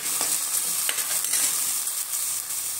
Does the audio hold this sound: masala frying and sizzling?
yes